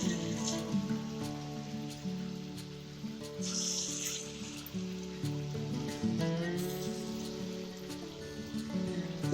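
Snake gourd fritters fry in hot oil with a steady, rain-like crackle and sizzle that runs throughout beneath tonal background music.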